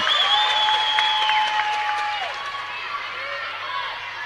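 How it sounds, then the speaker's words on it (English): A netball grand final crowd cheers and applauds in an arena, a broad sustained roar with a whistle-like tone gliding over it, while a commentator talks over the noise. "Off the hands of Lambden, and the crowd gets excited again."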